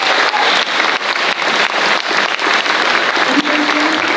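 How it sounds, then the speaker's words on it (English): Loud, dense applause from a school assembly audience for a student panel, sustained evenly with no voices over it. "Can we get a round of applause for them?"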